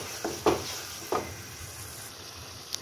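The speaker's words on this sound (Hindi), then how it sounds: "ये अदरक लहसुन का पेस्ट जो मैंने आपको बताया ना, ये सारा इसके अंदर ऐड कर देना है और इसको फ्राई करना है" Onions frying with ginger garlic paste in a pan for boneless chicken pulao, giving a low, steady sizzle marked by two or three louder stirring scrapes near the start and no talking.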